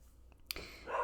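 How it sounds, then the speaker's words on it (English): A puppy gives a single short bark at close range indoors, followed by a brief rising whine or yip. "he just keeps barking at everything"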